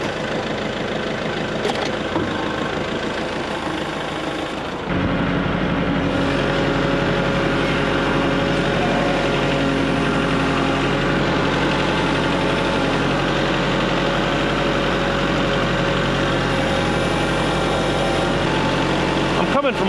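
A vehicle engine runs at close range while driving toward an Eastonmade 22-28 log splitter site, a steady mid-pitched drone that grows louder and fuller after a few seconds and then holds evenly, with someone talking over it.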